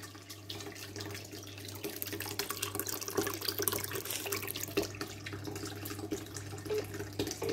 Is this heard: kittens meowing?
no